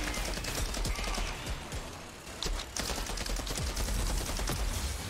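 Gunfire in the Outriders game, a loud sustained barrage of rapid overlapping shots with brief pauses, near and dense across the whole stretch.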